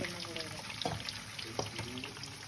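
Chicken pakoras fry in hot oil, a steady close crackling sizzle with scattered pops and a few faint clinks, low voices murmuring underneath.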